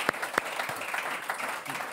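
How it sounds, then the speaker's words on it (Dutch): An audience at a teachers' café talk event applauds a guest speaker being introduced, a short burst of clapping with a few sharp nearby claps standing out. "Applaus voor hem."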